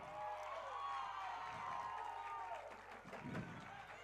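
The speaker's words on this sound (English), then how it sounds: "starters have their cheer, and the bench has or non-starters have their cheer" Lacrosse players at a conference championship give a team cheer, a dense burst of crowd shouting and whooping with scattered clapping that holds steady for several seconds at moderate distance.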